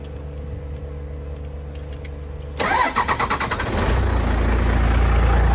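A crew cab truck engine cranks and catches after a couple of seconds of quiet, then settles into a steady, fairly loud running idle close by.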